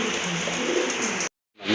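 Pigeons coo softly and continuously nearby, then the sound drops out briefly before resuming.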